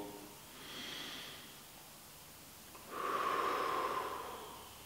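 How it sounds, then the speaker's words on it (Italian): Slow diaphragmatic breathing is demonstrated close up: a soft drawn breath, a pause, then a longer, stronger airy exhale, with no talking. "la respirazione diaframmatica è una respirazione che avviene più a livello basso"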